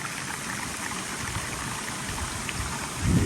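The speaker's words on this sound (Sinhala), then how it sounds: "බලන්නකො වතුර පාර." A village stream flows through a jungle path, with a steady rushing wash of water that stays broad and constant, growing slightly louder at the end.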